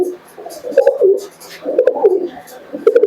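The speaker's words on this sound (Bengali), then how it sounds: "দেখুন পায়রার ডাকটা দেখুন" Giribaj pigeons at a Murshidabad sale coo close by in a few repeated, throaty phrases, each a short rolling burst with brief pauses between.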